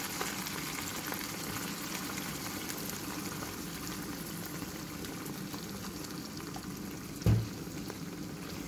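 Steady, quiet bubbling and sizzling of meat and mushrooms in a pan with whole cream added, a soft continuous simmer with one brief clunk near the end.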